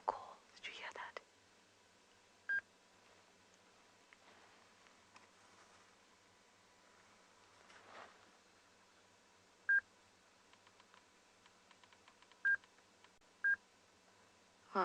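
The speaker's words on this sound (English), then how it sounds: "Sorry for the beeping, everyone." A safari game drive radio at Tswalu gives several short, clear electronic beeps, spaced irregularly over a quiet outdoor background with faint rustling and soft whispering.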